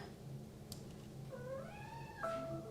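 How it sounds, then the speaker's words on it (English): A needy house cat meows, a faint rising cry followed by a second short meow over a low steady room hum, with no talking. "So we'll just have to listen to him meow for a couple minutes."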